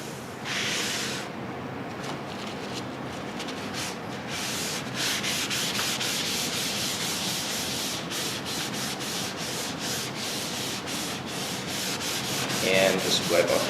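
Graphite rubbed and shaded across paper in repeated passes, a continuous close soft scratchy hiss with light rhythmic strokes.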